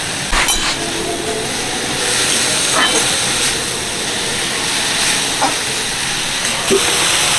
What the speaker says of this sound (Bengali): মসুরির ডালটা ঢেলে দিলাম